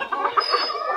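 Cochin and mottled cochin frizzle bantam hens let out into the open cluck in quick, overlapping bursts, near and fairly loud, with no voices over them.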